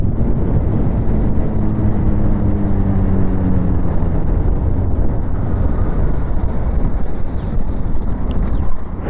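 A 2026 Bajaj Pulsar 220F, E20 fuel compatible, is ridden on the road, its engine a steady low drone with rising gear tones, heavily buffeted by constant wind noise across the microphone.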